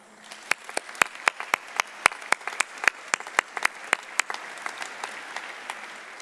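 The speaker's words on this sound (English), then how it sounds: "Please join me in saluting our faculty with a round of applause." Commencement audience applauding the rising faculty, a thin spread of claps with sharper individual hand claps popping out irregularly, moderately distant and steady, fading slightly toward the end.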